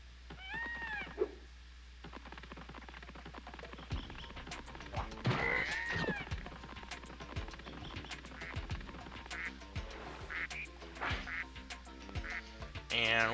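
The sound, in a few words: ducks quacking in the video game Spyro 2: Ripto's Rage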